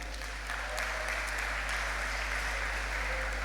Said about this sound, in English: Please give applause to class 3 intensive.